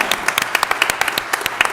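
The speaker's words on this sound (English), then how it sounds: "Let's all give him a round of applause." A brief burst of scattered hand clapping from the audience at a city council meeting, loud and close, with uneven claps over under two seconds.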